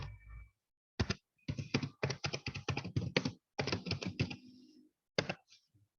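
Rapid bursts of typing on a computer keyboard while a search keyword is entered, close, crisp clicking keystrokes in quick clusters separated by brief pauses.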